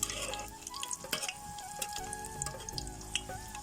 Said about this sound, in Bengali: দেখুন আমি এটা তেলের ভিতরে দিয়ে দিয়েছি। তো এটাকে আমি খুব সুন্দর করে ভেজে নেব।